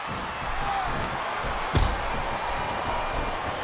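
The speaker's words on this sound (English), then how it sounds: "Sounds like this crowd's got something on their minds, King." A large video game arena crowd murmurs and rumbles continuously in the background during a Royal Rumble wrestling match, with one sharp thud partway through; no one speaks up close.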